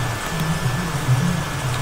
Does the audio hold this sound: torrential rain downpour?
yes